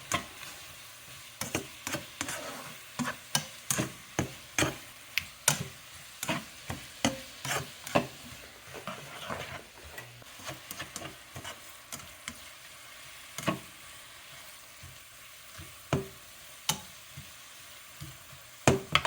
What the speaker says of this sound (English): You're just going to mix that up, let the spinach break down a little bit.